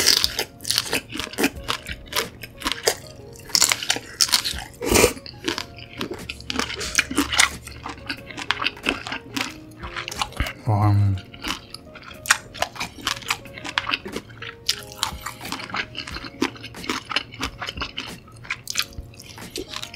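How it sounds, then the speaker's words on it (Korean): Crunchy chewing of shell-on cooked shrimp, loud and close, with repeated crisp bites and squishy mastication in a steady rhythm for the whole stretch, with no talk. "요즘 이렇게 새우 껍질 안 까고 껍질째로 조리해서 먹는 게 식감도 오독오독한 게 진짜 맛있는 것 같아요"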